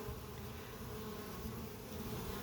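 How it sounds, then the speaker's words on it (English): Honey bees drone steadily at the hive entrance on a cool 55-degree morning, a faint, continuous buzzing hum with no break. "I wanted to see how busy the bees would be."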